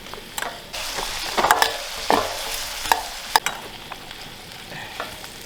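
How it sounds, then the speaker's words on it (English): Potatoes and onions frying in a pan over a morning campfire, with a steady close sizzle broken by scattered scraping and clinking of a utensil stirring the food. "Potatoes and onions over the fire this morning."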